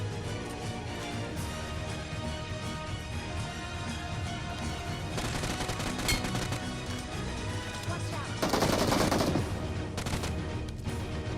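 Gunfire in the mobile game PUBG on Android, with bursts of rapid shots and crashing impacts over a dense, busy game soundtrack, growing louder toward the end.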